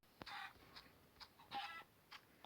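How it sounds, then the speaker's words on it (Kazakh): Chicken in the Minecraft video game making short, faint clucking bursts, several brief calls spaced irregularly over a couple of seconds with no talking. "Тауық."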